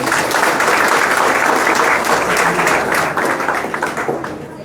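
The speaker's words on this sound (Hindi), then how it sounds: "उनके लिए ताली बजाओ सबको।" Sustained audience applause at a Hindi political gathering, a dense wash of many hands clapping at close range, steady for several seconds before thinning slightly toward the end.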